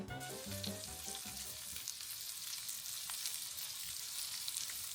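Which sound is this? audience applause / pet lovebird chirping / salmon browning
salmon browning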